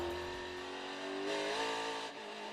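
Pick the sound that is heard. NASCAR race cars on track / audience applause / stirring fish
NASCAR race cars on track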